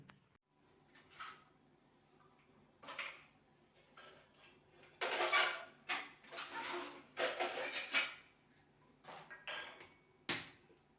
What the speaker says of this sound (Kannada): ಈಗ ದೇವ್ರ ಪಾತ್ರೆ ಎಲ್ಲ ಬೆಳಗಬೇಕು